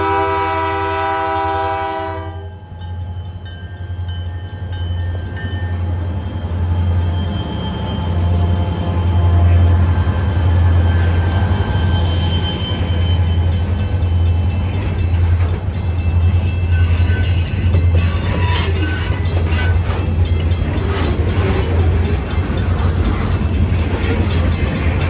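A Pan Am Railways freight train, symbol SAPPY-3, opens with a loud horn blast and then rolls past with a heavy, continuous rumble and the rattling clatter of cars, with no voices.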